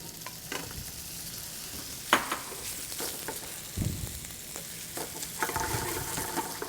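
Chorizo frying in a paella pan gives a steady close sizzle, with occasional louder clanks and scrapes as it is stirred, and no talk over it.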